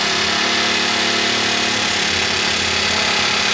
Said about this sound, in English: The riveting gun is now applied to the rivet and the trigger pressed.